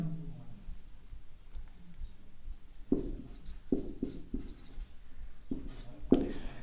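A pen scratches and taps across a surface as someone writes, in short uneven strokes with a few louder clicks, close and fairly quiet.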